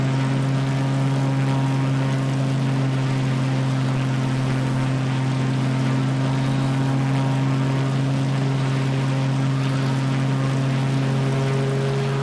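A propeller aircraft engine drones steadily in a flight simulator game, a loud, even hum with strong low tones that holds without change for the whole stretch.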